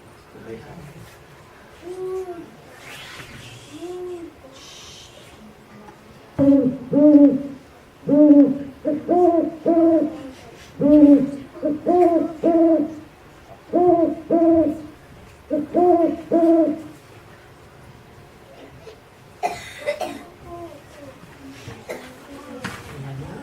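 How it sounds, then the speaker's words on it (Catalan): Repeated paired hoots of a long-eared owl, low and resonant, sounding in a steady rhythm of about a dozen calls, with some quieter background noise and faint voice at the edges. "El mussol banyut, li diem banyut perquè té les celles cap amunt."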